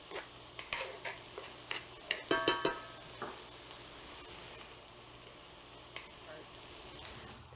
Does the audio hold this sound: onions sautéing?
yes